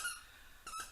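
A dog chewing a favourite squeaky toy gives two short, high rubbery squeaks, one at the start and one near the end, close and fairly clear against a quiet indoor background.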